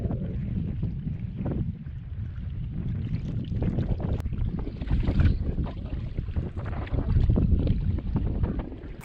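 A canoe paddled across a lake on a long wilderness trip, heard as continuous rushing water and wind noise with low rumbling strokes, fairly loud and close, with no talking.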